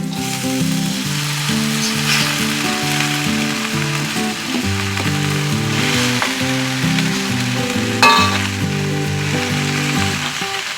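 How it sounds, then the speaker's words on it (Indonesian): Water spinach (kangkung) stir-frying in a pan with shrimp paste and salt, a loud continuous sizzle throughout, with occasional scraping and stirring clatter over a low musical background. "Kemudian bisa tambahkan kangkungnya."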